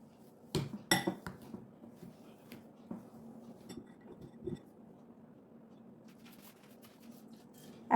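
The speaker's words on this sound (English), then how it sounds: "I'll just mash them up" Four boiled, medium-sized potatoes are mashed in a bowl: quiet, scattered clinks and taps of a utensil against the dish, with a few louder knocks early on over a faint background hum.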